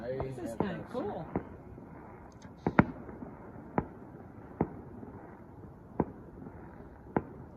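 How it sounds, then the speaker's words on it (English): A town fireworks display bursts in the distance on a chilly Christmas Eve, giving a scattered series of sharp, echoing bangs spaced a second or so apart. Voices murmur faintly near the start. "the first time that I've seen a town host a fireworks display on Christmas Eve"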